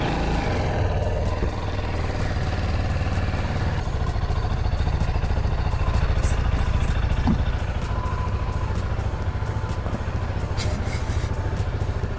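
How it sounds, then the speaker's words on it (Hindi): A motorcycle idles steadily after a cold start on a road trip along the Konkan coast, a continuous close engine rumble with some mechanical clatter and no talk. "Cold start this bike."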